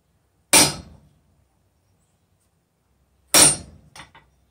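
Two sharp hammer blows on hot steel over a blacksmith's cutoff tool, each ringing out and decaying, the second followed by a couple of lighter taps, with silence between strikes.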